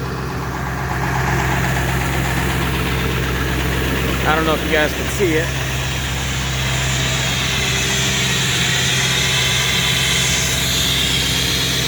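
A 1999 Ford F350 7.3 Powerstroke diesel with ZF6 transmission and 305,000 miles runs steadily at high idle, a constant low rumble with mechanical hum, exhaust still smoking slightly; someone speaks briefly over it midway.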